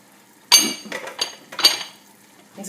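Strained lentils are tipped into chicken broth in a pot: a sharp metallic clank, then scraping and clinking of a utensil against the pot in a few short bursts, close by, with no speech.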